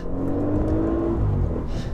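A 2017 Audi S8 Plus engine revs up steadily to its 6,850 RPM redline with a rising, sustained roar, loud and close, no talking.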